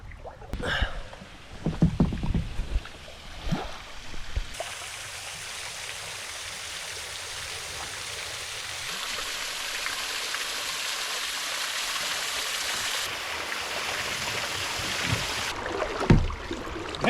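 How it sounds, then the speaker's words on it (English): Waterfall roaring steadily ahead while paddling a kayak, a broad continuous rush of falling water that builds and holds. Paddle splashes and water sloshing against the boat come first, and splashes return near the end. "Waterfall, waterfall."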